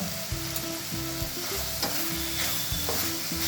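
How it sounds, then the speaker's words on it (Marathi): Soya chunks and vegetables sauté in a pan for soya pulao, a continuous loud sizzle broken by repeated spatula scrapes and stirring knocks, close and without speech. "तर भाज्या परतून झाल्या की हे सोया चंक्स टाकायचे आणि हे पण परतून घ्यायचे."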